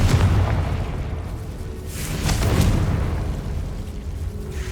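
A Confringo fire spell blast in Hogwarts Legacy, a loud rumbling boom with a rolling, sustained roar that swells again midway and then fades slowly.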